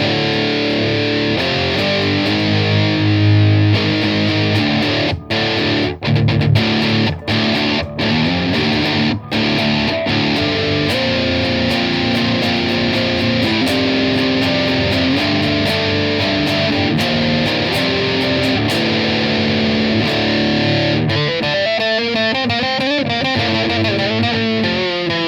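Electric guitar played through a Boss Metal Zone distortion pedal, a loud, heavily saturated riff sustained throughout, broken by a few short choppy palm-muted stabs and ending in a buzzing tremolo-like passage.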